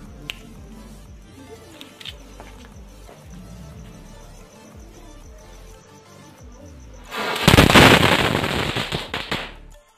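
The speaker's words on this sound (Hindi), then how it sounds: "पटाखे जो है काफ़ी अच्छे चले इसके अंदर से" Crazy Kids chitput firecrackers are lit and go off, starting with a crackling, ticking patter of small pops. About seven seconds in it swells into a loud, dense burst of crackling explosions that tapers off toward the end.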